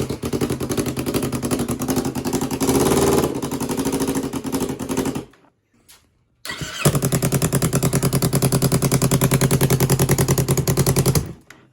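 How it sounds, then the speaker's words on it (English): A street bike engine bought cheaply runs loud and close with a rapid, rough idle, cuts out for about a second, then restarts and settles back into a steady, pulsing idle. "Let it idle."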